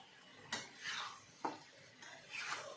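A spoon scrapes and stirs paneer butter masala in a pan, giving three quick metallic clinks against the pan, each followed by a soft swishing drag through the thick sauce, fairly faint and close.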